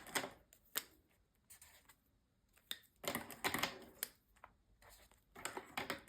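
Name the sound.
capping and uncapping felt-tip markers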